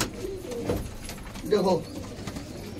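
Pigeons of the Ghaghra Khera breed coo softly in a loft, a short burst of cooing rising near the middle while someone talks over it.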